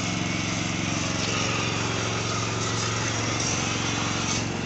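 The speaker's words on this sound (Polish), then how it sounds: "silnik Caterpillara, generator" A Caterpillar V12 diesel generator engine of about 648 horsepower with twin turbochargers runs steadily, a loud, close, continuous mechanical drone with a constant low rumble and even pitch throughout.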